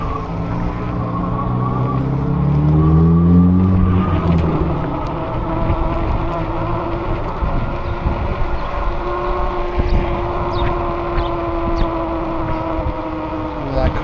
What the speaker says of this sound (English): That stay sick car is making a lot of noise. I think they're dragging something.